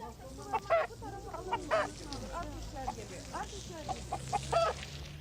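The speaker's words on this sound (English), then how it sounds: "as well as chickens, which, like the goats, are sold to be sacrificed in memory of Muhammad's messenger" Chickens for sale at a busy Istanbul market in 1975, clucking and squawking in repeated bursts close by, over a low crowd murmur and faint voices in the background.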